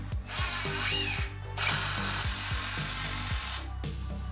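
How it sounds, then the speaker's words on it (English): A power tool cuts and drives into a wooden wall stud during a garage workshop repair, a close steady whir with a repeating stepped rhythm and a brief squeal, running almost continuously before a short stop near the end. "So cutting this one to length and toenailing it in was easy enough."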